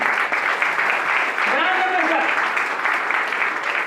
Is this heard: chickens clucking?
no